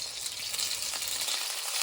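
Steady, bright sizzling of onions, honey and soy sauce in a hot frying pan, close and continuous with faint crackles, no talking.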